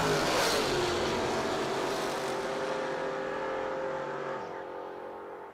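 A drag racing car launching down the track, a loud roaring engine that sweeps away and fades steadily into the distance over several seconds.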